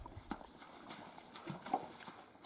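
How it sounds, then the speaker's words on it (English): A horse's hooves step onto floating vegetation at a creek crossing, giving a few soft, uneven clopping footfalls with splashy rustle, fairly close and moderately quiet. "Horses don't like stepping out onto floating vegetation very much, but he handles it pretty well."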